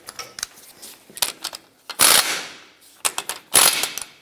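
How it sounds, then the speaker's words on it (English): Ratchet snugging a nut on the front lower control arm of a 1996-2002 Toyota 4Runner, heard as bursts of quick clicking pawl strokes separated by brief pauses, close and fairly loud. "Put the nut on, let's snug it up, and then we'll torque it."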